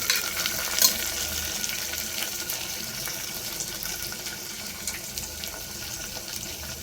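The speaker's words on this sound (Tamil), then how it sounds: "வெங்காயம் நல்லா வதங்கணும்." Onions fry in a pan while cooking a mushroom biryani, giving a steady, close crackling sizzle with occasional stirring scrapes and a brief clatter near the start, without any voices.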